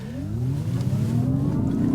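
A Mazda MX-30 electric car accelerating on the road, its rising electric whine sweeping steadily upward in pitch over a constant rumble of tires and motion.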